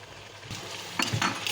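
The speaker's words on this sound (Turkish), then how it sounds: "5 dakikada bu böyle kavrulacak." Zucchini sautéing with onions and peppers in a pan, giving a soft steady sizzle with a few clinks and stirring scrapes of a utensil against the pan near the end.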